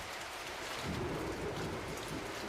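Steady rain falls in a dense, even hiss of drops hitting surfaces, continuous and moderately loud throughout with no voices.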